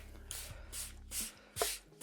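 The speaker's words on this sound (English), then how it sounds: "just give it a good spray." Four short hissing spray bursts of veneer softener from a pump bottle, evenly spaced about half a second apart, close by with faint handling noises between.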